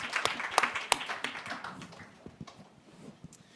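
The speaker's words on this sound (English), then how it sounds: "Please join me in a round of applause, thanking this expert panel for sharing their expertise and knowledge with us." An audience at a summit session on brain-friendly places applauds an expert panel, a few sharp distinct claps early, then thinner, softer clapping fading out under faint background voices.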